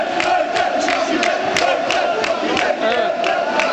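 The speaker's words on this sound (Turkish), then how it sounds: "Anvers Çarlova seyircisi bağırıyor. Destek veriyor oyuncularına." Football crowd of Anvers Çarlova supporters shouting and chanting for their players at a cup match penalty shootout, a loud dense roar with rhythmic rising shouts throughout.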